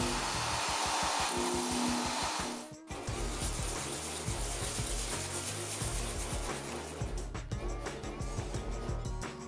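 A knife scrapes and cuts through loose, damaged fiberglass on a surfboard near the stringer, first as a fast rhythmic sawing and then as rougher, irregular scratching strokes up close.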